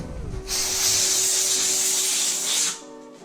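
A single steady spray of cleaner onto an Xbox 360 disc drive part hisses for about two seconds, close and fairly loud, then cuts off abruptly.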